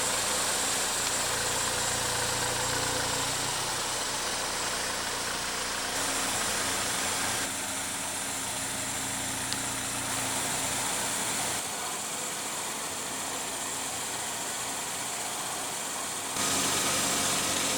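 A 2016 GMC Terrain's 2.4 L four-cylinder engine idles in a steady, even hum with a constant broadband hiss, unbroken for the whole stretch with no voices.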